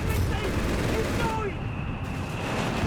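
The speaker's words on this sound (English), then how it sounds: "More artillery there out of the guns of VonMant and Das Vaterland." Artillery shelling in a Company of Heroes 3 match rumbles through heavy, continuous battle noise, with a voice talking over the din.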